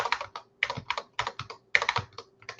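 Rapid bursts of keystrokes on a computer keyboard, loud and close, come in quick irregular clusters separated by short pauses, with no voices.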